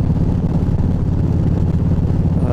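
Steady, loud low-pitched drone of a big 104-cubic-inch cruiser motorcycle engine pulling about 2,000 revs in sixth gear at around 60, continuous and close, with no talk.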